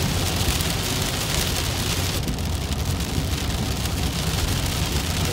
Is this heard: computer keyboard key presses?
no